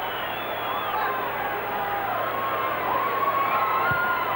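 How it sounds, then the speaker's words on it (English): A football stadium crowd at an All Whites versus Australia international in 2005 roars at a near goal, a broad sustained mass of cheering and shouting that swells toward the end. "I think Bunce thought it was in. And most of the crowd here at the Cottage did as well"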